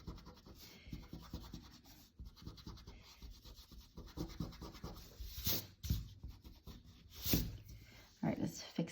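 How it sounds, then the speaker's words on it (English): A pencil eraser rubs back and forth across paper while a cartoon is drawn, producing soft, close scratchy strokes in quick repeated bursts, with faint talk in the background. "So let's erase the center line."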